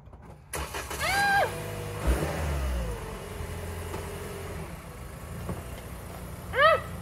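A Toyota Camry backing up onto wooden two-by-six boards, its engine revving and idling at close range, with brief squeals and a knock partway through.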